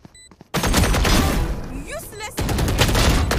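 Rapid bursts of gunfire in Valorant ring out loud and close, a dense volley of shots after a quiet start, with a brief dip and then more firing.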